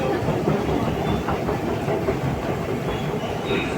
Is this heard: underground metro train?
yes